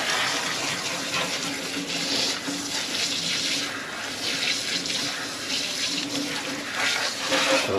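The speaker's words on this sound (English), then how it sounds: "I just rinse the sink down." Water runs steadily from a tap while a sink is rinsed down, giving a continuous splashing gush with slight surges and no talk.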